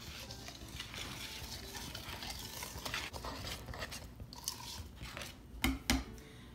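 Vegan donut batter with margarine being stirred in a bowl, a soft continuous wet scraping and sloshing close by, with a couple of louder knocks near the end.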